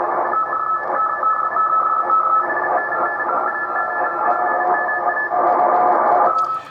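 Radio static and heavy interference fill the band, with a weak Morse code signal's faint tonal beeps and whistles buried in the noise, continuous and moderately loud.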